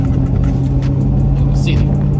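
A Ford Mustang with a manual gearbox driving along, its engine a steady low rumble heard from inside the car throughout, with faint clicks and a brief higher whine over the drone.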